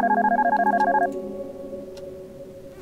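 A cell phone in the video game Darkness Within rings with a warbling electronic trill for about a second, then a low steady tone hums on with a few faint clicks, loud and close.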